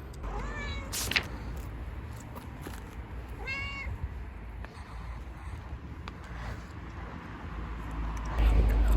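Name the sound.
cat meowing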